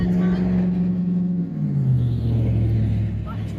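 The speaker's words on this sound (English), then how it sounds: "A lot of traffic." A steady low rumble of street traffic rolls past close by, one engine drone dipping in pitch as a vehicle goes by, a continuous loud wash of road noise with no clear talk over it.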